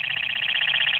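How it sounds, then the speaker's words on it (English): A two-way radio's man down alarm sounds, a loud high-pitched electronic tone pulsing rapidly and evenly for about a second with no voices over it. "that's the man down alarm"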